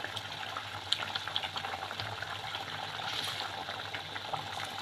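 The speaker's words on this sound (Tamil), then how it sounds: "நல்லா கொதித்து நல்லா திரண்டு வருது" A pot of tamarind-free fish curry bubbles on the stove, a quiet steady simmer with small scattered pops and crackles, close and alone without talk.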